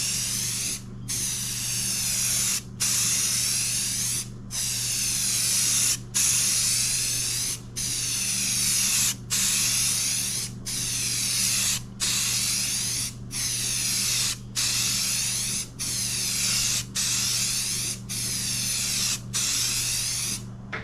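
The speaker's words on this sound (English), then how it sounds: "So first I'll put down some very dark navy blue paint." A spray paint can sprays dark navy blue paint in a long run of loud hissing bursts, each about a second long, separated by very short regular gaps, close up with no talking.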